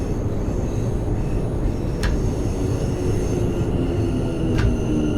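Steady low rumble of a London Overground Class 710 electric train in the video game Train Sim World, running along the track, continuous and fairly loud, with a couple of brief high squeals from the wheels.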